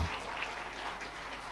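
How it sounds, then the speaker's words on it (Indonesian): Audience applause for Zulkifli Hasan, chair of PAN, at a political gathering: a faint, steady wash of many hands clapping, distant and even throughout. "tepuk tangan untuk Papi Zulkifli Hasan"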